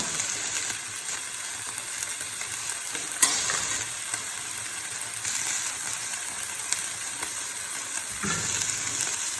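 Green peas and shredded carrots fry in a pan for chicken and vegetable chow mein while being stirred, with a steady bright sizzle and occasional scraping clacks, no talking.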